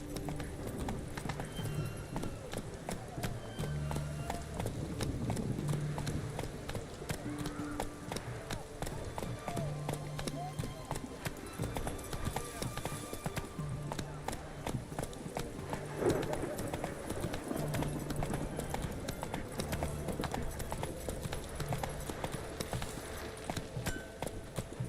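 Hoofbeats of the horse Roach galloping in The Witcher video game, a steady rapid clip-clop running throughout alongside game music, with a brief neigh and voices talking over it.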